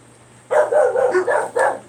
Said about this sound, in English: Make him stop barking.